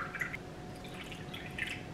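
Cold water poured from a measuring cup into a pan of chicken in a home kitchen, a soft steady trickle with light dripping splashes, close and fairly quiet.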